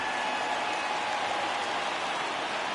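A home crowd cheering in a baseball video game, a steady dense roar of many voices holding at an even level throughout.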